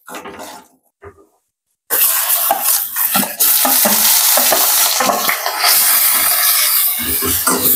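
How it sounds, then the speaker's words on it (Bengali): Cumin seeds and bay leaf hit hot oil for a prawn curry, starting with a few faint clinks, then a sudden loud, continuous sizzle with occasional stirring scrapes. "ওই তেলের মধ্যে জিরে দিয়ে দিলাম,"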